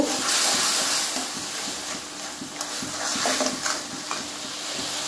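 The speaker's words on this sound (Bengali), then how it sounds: "এবারে মশলাগুলোকে খুব ভালোভাবে কষিয়ে নেব" A spice paste of ginger, garlic and cumin sizzles and fries steadily in hot oil, with a repeated scraping of the stirring spoon through a continuous close hiss.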